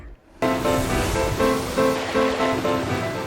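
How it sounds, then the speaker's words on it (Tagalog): Bahaw Falls in Gigmoto, Katanduanes, a waterfall with clean, cold water, starts with an abrupt, loud, continuous rushing roar that holds steady to the end, with a faint tonal hum underneath. "nakaka-relax na waterfall sa Katanduanes"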